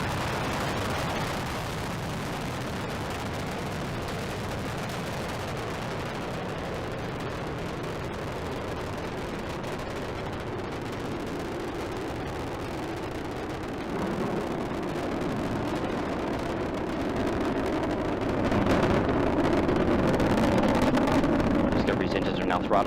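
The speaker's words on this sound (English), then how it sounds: "Engines are now throttling down as the orbiter passes through the area of maximum pressure" Space shuttle Discovery lifting off, its engines producing a steady, deep, continuous roar with wind-buffeted rumble that builds slightly louder toward the end.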